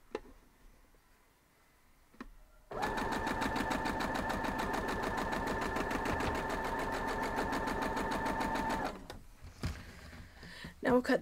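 A sewing machine stitches a quilt block seam in one steady, fast, even run of close rapid ticks lasting several seconds, with faint handling noises before and after.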